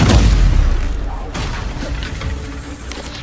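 Incendio fire spell cast in Hogwarts Legacy, a loud booming burst of flame with a crackling, whooshing tail that fades over a few seconds.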